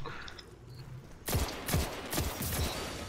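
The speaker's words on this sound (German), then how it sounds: "Erstmal Munition verschießen." Rapid gunfire in the video game Destiny 2, a sudden burst of four or five loud, punchy shots in quick succession after a quieter start, heard without any talking.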